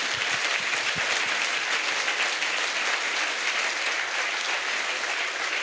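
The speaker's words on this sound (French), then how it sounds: "Let's clap to Lord Jesus." A church congregation at an evening salvation, healing and deliverance crusade in Bafoussam claps for Jesus Christ, a dense, steady wash of applause from a large crowd filling the space without pause.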